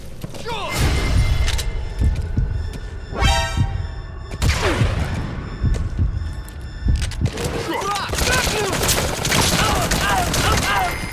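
Bursts of unsuppressed gunfire in a video game crackle repeatedly amid thuds and mechanical clatter, loud and close, with a voice speaking in between.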